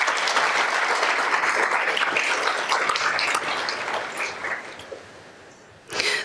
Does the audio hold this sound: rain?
no